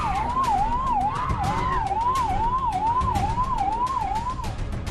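Wailing ambulance siren in Hyderabad, sweeping up and down in a steady repeating cycle, moderately loud over street traffic noise, with no voices.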